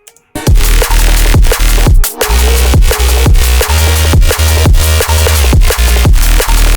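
Gritty, growling neuro bass synth patch built in Serum, panned side to side by an 8 Hz autopan at 50% depth, playing loud rhythmic stabs with punchy low hits, sweeping across the stereo field with no voices.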